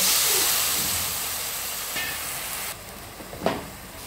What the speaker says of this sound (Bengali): এখন আমি এখানে পানি দিয়ে দিব